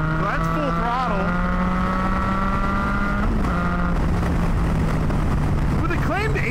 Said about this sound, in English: So that's full throttle.